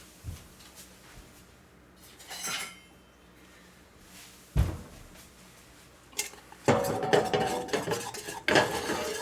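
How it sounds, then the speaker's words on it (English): A tiny broken-handled whisk mixes batter in a bowl, scattered metallic clinks and scrapes that build into busy rapid whisking near the end, close by with no talking. "Oh, I do have a tiny whisk."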